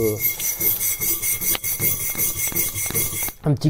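Wire brush scrubbing a 2 mm thick piece of scrap steel before a first welding test, a steady rasping scrape in quick repeated strokes, close and loud, with no talking.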